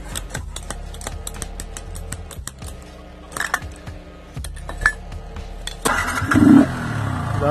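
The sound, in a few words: Yamaha motorcycle engine running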